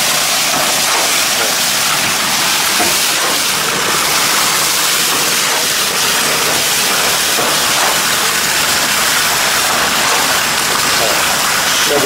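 A concrete pump pours concrete into a pile cap block on a construction site, a loud, steady wash of hiss and rushing noise that runs the whole time with no pauses.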